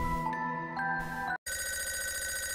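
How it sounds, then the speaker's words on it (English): Steady electronic phone ring from the Five Nights at Wario's horror game, a tonal repeating chime that cuts out abruptly for a moment and then resumes at a constant level. "I'm gonna skip the phone call."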